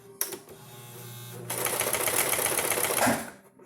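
A sewing machine back stitches a cloth face mask, a short burst of rapid needle clatter followed by a steady, louder run of fast mechanical stitching that fades at the end, close and alone.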